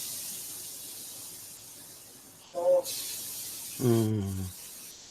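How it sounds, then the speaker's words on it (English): Cooking oil sprays from a can onto a cast iron skillet in short hissing bursts, while someone speaks briefly over them at close range. "just going to spray some oil on the thing"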